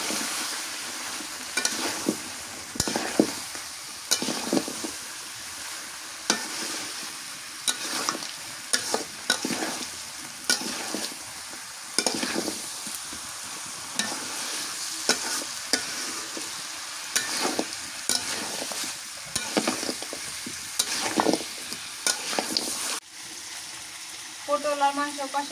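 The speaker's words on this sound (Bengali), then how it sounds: "মাংসটা আমি 2 কষান করে নিচ্ছি, এবার পটল দিয়ে দিই।" Beef and pointed gourd are stirred and fried in a pan, with a soft sizzle running beneath repeated, regular scraping strokes of the spoon across the pan.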